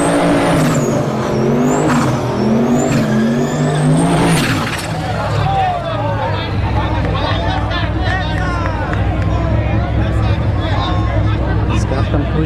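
A turbocharged 1970s Ford mini pickup with slicks and a gutted bed at a no-prep drag race, loud engine noise and revving under continuous announcer talk and crowd babble.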